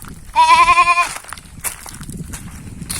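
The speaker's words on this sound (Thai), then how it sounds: "นู่นนะคะก็จะเป็น ฝูงแกะของเรา" A single loud, wavering bleat rises from a flock of goats and sheep on a farm being herded toward the pen on a hot afternoon, followed by quieter outdoor rustling and background noise.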